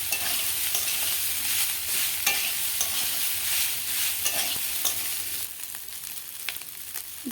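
Pasta frying in a pan is stirred continuously, with a steady loud sizzle and scraping that runs the whole time and eases slightly toward the end, with no voices.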